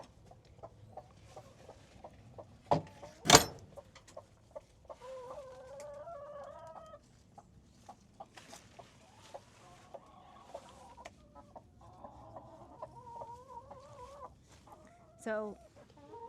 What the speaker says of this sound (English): we actually have a broody chicken down here.